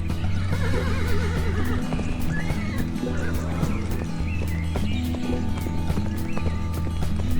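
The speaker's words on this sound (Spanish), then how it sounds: "Son caballos salvajes que viven en las praderas del Pirineo" Wild Pottok horses of the Basque Pyrenees meadows whinny several times while hooves clop rhythmically, all set against a continuous droning tonal backdrop that persists throughout.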